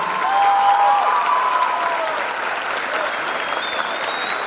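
Audience applause at a break dance anniversary show, sustained loud clapping from a crowd with a few cheers and whistles mixed in.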